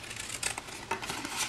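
Paper flaps being cut off a gift box made of paper, a close crackly run of crinkling and snipping with a few sharper cuts, alone with no voices.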